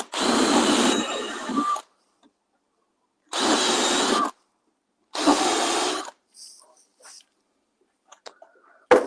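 A power drill fitted with a countersink bit runs in three loud, steady bursts of about a second each, separated by silence, during a Ford F-150 underseat subwoofer build, with a few faint clicks afterward.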